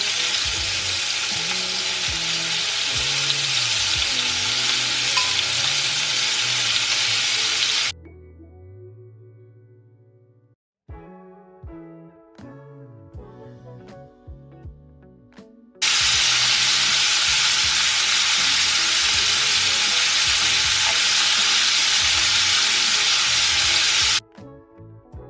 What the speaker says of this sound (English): Ooh, I love the sound of a sizzle.